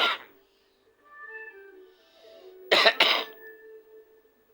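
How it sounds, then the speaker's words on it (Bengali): A short, sharp double cough bursts out on request after a few soft whistled tones, close and fairly loud against an otherwise quiet background. "কাশি দাও না একটা।"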